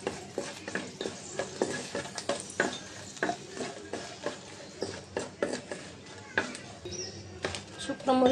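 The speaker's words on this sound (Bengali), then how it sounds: "কড়াইটা শুকনো মরিচ কাটা ভেজে নেব।" Dried red chillies fry in a kadai, a steady crackling sizzle broken by frequent spatula scrapes and metallic clinks against the pan, close and busy throughout.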